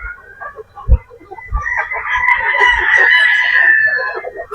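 A bulik gamecock rooster lets out a loud, drawn-out crow close by, with clucks and soft thumps of other fowl around it.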